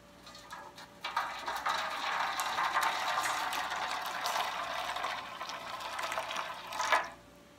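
Hot water is poured into a large baking tray, a steady splashing pour that starts abruptly, runs for about six seconds and ends with a brief surge.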